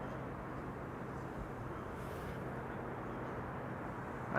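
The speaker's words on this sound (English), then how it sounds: "I am most definitely picking up the sound of an airplane overhead with propellers" A propeller airplane flies overhead near Amsterdam Schiphol Airport, a steady faint broadband drone and rumble from a distance, with no talking.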